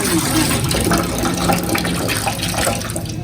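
Fish being washed under running water, a continuous loud stream of water splashing steadily throughout.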